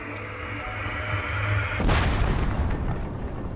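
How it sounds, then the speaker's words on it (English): In Zelda: Tears of the Kingdom, a cannon fires at the player, a loud booming blast that bursts over an ongoing game hum and rumbles on afterward, with no talking. "Is that a cannon? Oh, that's trying to shoot at me."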